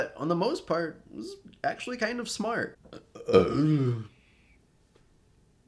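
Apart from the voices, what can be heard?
burp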